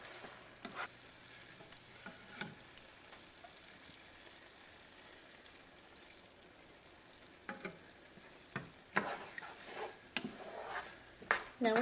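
Risotto with broth bubbling and simmering in a pan, a soft continuous sizzle under occasional stirring clinks and scrapes that grow busier toward the end, close and fairly quiet.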